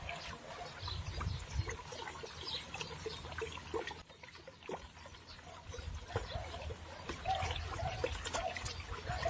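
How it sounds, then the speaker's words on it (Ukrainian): Bordeaux mixture being stirred for spraying an orchard, quiet close sloshing and trickling of liquid with small irregular splashes throughout. "Гарненько все розмішуємо."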